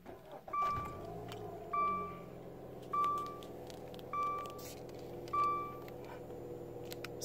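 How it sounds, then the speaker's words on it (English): A 2013 Dodge Dart Rallye being turned on: five evenly spaced electronic chimes ring out about a second apart over a low idle hum inside the cabin. "I'm going to turn the vehicle on."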